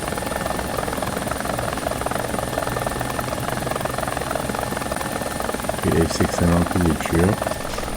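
A helicopter flies in the video game War Thunder, its rotor and engine droning loud and steady throughout, with a heavier pulsing chop rising briefly near the end.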